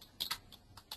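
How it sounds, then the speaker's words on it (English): Quiet, close clicks of typing on a computer keyboard as a web address is entered into a browser, about five or six irregular keystrokes with no speech. "I'm typing it up here in the browser address window."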